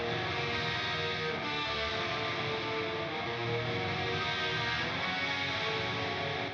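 A crunchy, moderately distorted lead electric guitar tone drenched in reverb plays a sustained melodic line alone, full and even in level.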